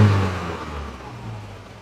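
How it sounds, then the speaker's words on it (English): A warmed-up Volvo 240 engine revs briefly and then settles back toward idle while the idle is being adjusted, loud and close at first and easing into a steady mid-pitched running note. "I'm going to play with the idle, get the idle down, and then we will play with the timing."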